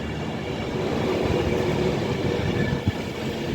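A Pendolino electric train, City of Liverpool, runs along the West Coast Main Line at Rugby, a steady close rumble of wheels and rail noise throughout with a brief knock near the end.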